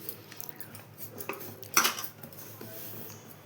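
Murukku dough of boiled urad dal flour worked in a bowl for snack making, giving soft scraping and rustling with a louder clink of utensil against the bowl partway through; no talking.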